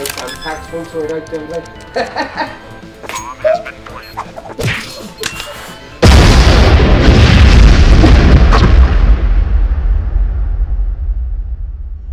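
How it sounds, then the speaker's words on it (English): A large secondary explosion erupts midway as a sudden loud broadband boom, followed by a sustained roaring rumble that slowly fades, after a stretch of background talk and scattered knocks. "what appears to be a uh, secondary explosion."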